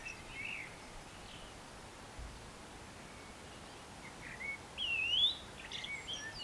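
A few faint, high blackbird calls and chirps in a garden over soft outdoor noise, with one clearer rising call near the end, fairly distant.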